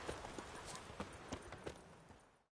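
A horse's hooves clip-clop in quick, regular steps in The Witcher 3 video game, moderately close and fairly quiet over a steady background wash, with no talking.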